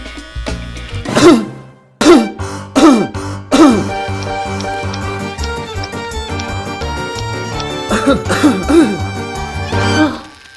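A person coughs in several harsh bursts, with pauses between fits and a throat-clearing sound, while background music plays underneath.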